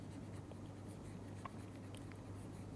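Writing on a board during a lecture: soft, faint scratching strokes over a quiet room hum, with no voice heard.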